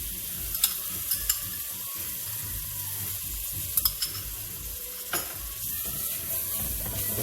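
Garlic sizzles steadily in a pot for a chicken, sausage and seafood gumbo, a soft continuous hiss broken by a few sharp scrapes and clicks of stirring.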